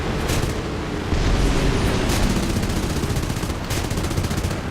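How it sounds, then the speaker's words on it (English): Aircraft machine guns fire in long, dense rattling bursts during a War Thunder air battle with Japanese planes, loud and continuous over heavy engine roar. "I can't hit him with these little machine guns."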